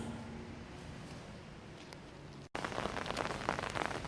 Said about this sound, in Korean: 밤새 내리는 장마비가 아침까지 이어져 우산을 하나 준비하고 나섭니다